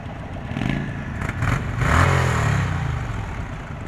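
A 2023 Indian Sport Chief motorcycle engine while riding, a steady mid-range drone with wind rush that swells as it revs up around the middle, then settles, close and loud with no talk.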